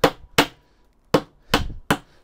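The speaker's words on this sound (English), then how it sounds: "you hammer it a little bit just to free" Five sharp hammer blows on pallet wood, loosening boards, irregularly spaced, close and loud with quiet gaps between strikes.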